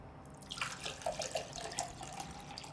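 Water is poured into a glass close by, a soft trickling stream with small splashes and gurgles for a few seconds and no talking.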